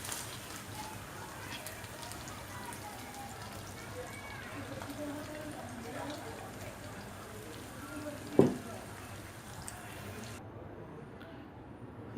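Phaha fish frying in hot oil in a home kitchen as the pieces are lifted out, a steady soft sizzle and crackle throughout with one brief clink partway through, then a sudden stop.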